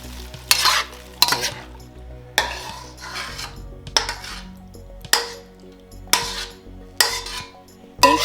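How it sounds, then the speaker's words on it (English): Vegetables, pineapple and spring onions get tossed in a wok with a spatula, giving rhythmic scraping clanks roughly every second over a steady background sizzle, with no voices. "Finally, incorporate the vegetables, pineapple, and spring onions."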